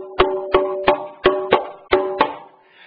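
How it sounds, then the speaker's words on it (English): A timber quinto conga, 11 3/4 inches, is struck six times in a loose rhythm, each close hit giving a bright, ringing tone that decays quickly, with no voices. "I have the quinto, the smallest conga, in the middle here"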